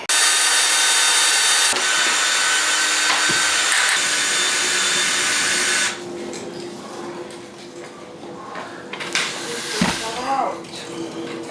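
A loud, steady whirring drone of a power drill runs for several seconds, then stops, leaving quieter rustling and brief bumps of handling.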